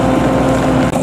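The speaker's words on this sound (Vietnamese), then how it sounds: "mưa quá" Heavy rain pours over a rural Vietnamese field where a homemade rice combine harvester cuts crops, a loud, dense, steady roar with wind buffeting the microphone.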